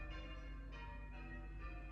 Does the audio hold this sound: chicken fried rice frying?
no